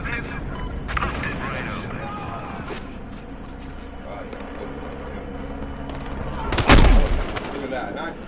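Gunshots in a video game, with scattered shots under ongoing excited talk and one loud, sharp blast standing out near the end.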